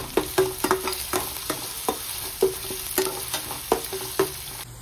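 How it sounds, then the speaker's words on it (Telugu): Ginger paste fries in oil in a pan, sizzling steadily while a spoon scrapes and stirs in a regular rhythm of close, sharp strokes, with no voices. "దీన్ని కూడా బాగా పచ్చివాసన పోయే వరకు అయితే ఫ్రై చేసుకోవాలి."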